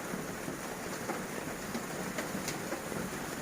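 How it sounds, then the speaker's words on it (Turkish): Steady rain falls outdoors onto surfaces around potted succulents, a dense even patter with occasional louder drops, soft and continuous with no voices. "Ama çok güzel yağıyor."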